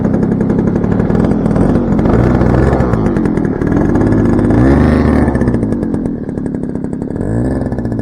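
A radio-controlled tow plane's small engine runs steadily while the model taxis on the ground, a loud, close buzzing drone with slight changes in pitch throughout and no pauses.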